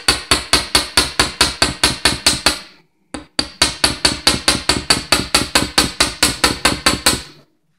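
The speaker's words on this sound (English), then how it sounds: "You're going to take your hammer block and you're just going to hammer the piece." Rapid, steady metallic hammer blows on metal wire against a hammer block ring out close by, about four per second, stopping briefly before the hammering resumes at the same brisk pace.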